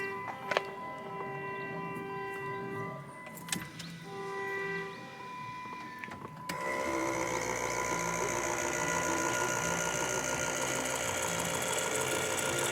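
A mechanical hum and ticking, then the leaking hydraulic pump of a Chrysler Sebring convertible top kicks on and runs with a steady, dense whirring drone, close and continuous.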